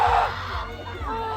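Fans scream and whoop loudly in a packed convention hall during a festival interview at SMX Convention Center, a dense, sustained wall of crowd noise with voices mixed in.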